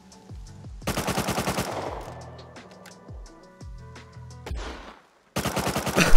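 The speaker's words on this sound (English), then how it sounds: "I'm gonna shoot to bait them." Rapid automatic gunfire from a player's weapon in the survival game Rust, loud close bursts of shots with short pauses between them and a final burst at the end.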